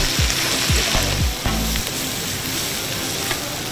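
Cassava is stir-fried with sliced green onion and chili, sizzling loudly and steadily in a hot pan, while a spatula repeatedly scrapes and tosses the food in a rough rhythm.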